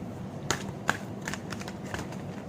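Tarot cards being shuffled and handled, a few soft papery riffles and flicks at a quiet, close level with no talking.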